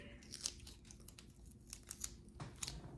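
Duct tape being torn into strips for a zebra headdress mask, a quiet series of short ripping and crinkling bursts at close range with no talking.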